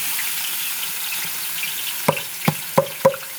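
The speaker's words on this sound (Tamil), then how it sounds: "இப்போ வந்து நம்ம 3 கிலோ வெங்காயத்தை வந்து இது மாதிரி ஸ்லைஸாக நறுக்கி வச்சுருக்கோம்." About three kilograms of sliced onions sizzle steadily in hot oil in a large catering pot, a loud continuous fry, and four sharp utensil knocks in the last second and a half.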